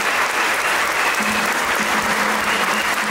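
Steady, dense applause from a concert-hall audience in Novi Sad for an orchestra, continuous throughout, with a faint sustained tone drifting in underneath partway through.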